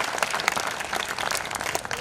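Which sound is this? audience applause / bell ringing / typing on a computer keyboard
audience applause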